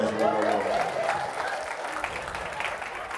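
A church audience bursts into applause, a close, lively patter that is strongest at the start and slowly fades over a few seconds.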